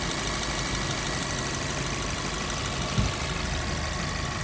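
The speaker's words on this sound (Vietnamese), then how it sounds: "Đây, máy rất là êm, máy nổ cực kỳ êm luôn." A 2012 Mazda 3S with a 1.6-litre automatic engine, original and unmodified, idles smoothly in a steady, even, low hum that continues without a break and with no talking.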